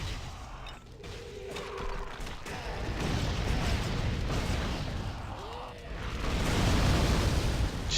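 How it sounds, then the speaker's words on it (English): Explosions rumble in the action game Torchlight 2, a low, sustained roar of blasts and crashing debris that swells and recedes over several seconds, with no voices. "If you like explosions, well, there's going to be plenty of explosions"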